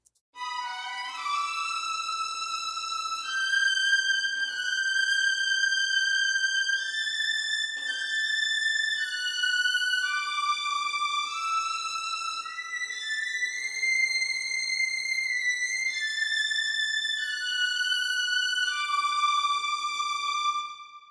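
A smooth, sustained sampled string ensemble plays a slow melody of long held notes, clean and steady with no voices.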